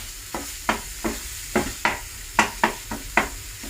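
Garlic and ginger paste fries in a pan, and about ten sharp scraping stirs land at an uneven rhythm over a soft sizzle, close and fairly loud with no talking.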